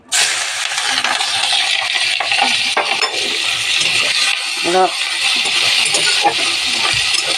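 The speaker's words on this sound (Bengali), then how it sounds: "এবারে তেলের মধ্যে দেব শুকনো লঙ্কা, পাঁচফোড়ন। এবারে দেব লঙ্কা কুচি, পেঁয়াজ কুচি।" Dried chilli, five-spice seeds, chopped green chilli and onion frying in hot oil, giving a loud, continuous sizzle broken by a few sharp clinks of a utensil against the pan.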